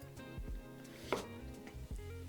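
A knife chops onion on a cutting board for a puff-pastry ham stick recipe, with a run of evenly spaced, close, crisp taps at a steady moderate rhythm.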